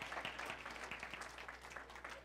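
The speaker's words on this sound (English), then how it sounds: "give the Lord another clap offering" A church congregation claps during a Sunday worship service, a quiet and steady patter of many hands heard from some distance, with a low hum underneath.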